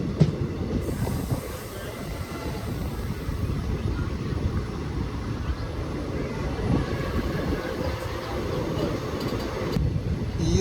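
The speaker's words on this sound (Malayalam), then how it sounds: "തിരിവിലൊക്കെ നമ്മുടെ ഈ ലോക്കോ പോണ കാണാൻ നല്ല രസമാണ്" A Nilambur–Palakkad passenger train locomotive rounding a curve, giving a steady, loud rumble of wheels and rail noise that holds throughout with no gaps.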